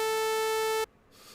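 A synthesized sawtooth-wave tone holds one steady, bright, buzzy pitch for under a second, then cuts off abruptly into near silence.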